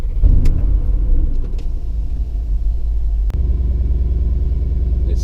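A Mercedes G63 AMG G-Wagon drives along, its engine giving a steady, loud low rumble throughout with a brief dip partway through, and no talking.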